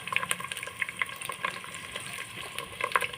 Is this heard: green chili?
yes